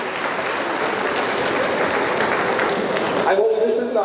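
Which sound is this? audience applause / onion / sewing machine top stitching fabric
audience applause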